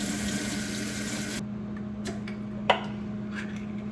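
Water from a kitchen tap runs into a strainer while food is rinsed, a steady broad rush that cuts off abruptly after about a second and a half, followed by a low hum and a few small clinks and splashes.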